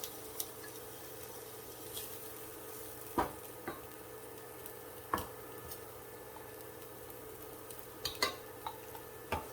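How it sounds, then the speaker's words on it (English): Peppers and onions cook in a pan with a little sunflower oil, giving a faint, steady sizzle broken by occasional sharp clicks and taps of stirring. "So in this pan, we're going to just add some peppers and onions."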